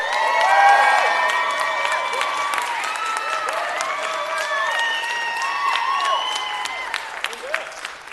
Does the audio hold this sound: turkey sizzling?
no